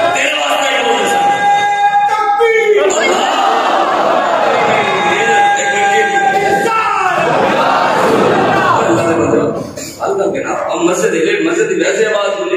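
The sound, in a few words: crowd chanting religious slogans echoing in a mosque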